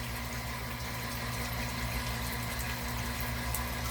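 Steady hiss of shower water running continuously, with a low pump-like hum underneath and no talking.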